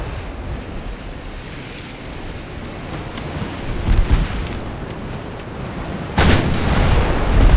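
Heavy naval guns from early twentieth-century warships in the naval strategy game Ultimate Admiral Dreadnoughts, a German fleet fighting the British, boom over a steady sea-and-wind wash, with one muffled blast near four seconds and a louder, sharper report at about six seconds.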